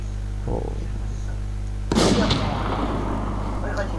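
An online shooter game plays a loud sharp gunshot that cuts through a steady background hum and fades into a noisy rumbling tail, preceded by a softer thud.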